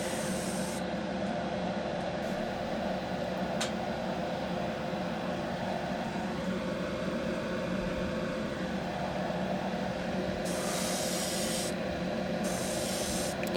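Continuous airy hiss of an airbrush spraying paint onto perch fishing jig heads at about 15 to 25 psi, over a steady compressor hum, with a few louder bursts of spray toward the end.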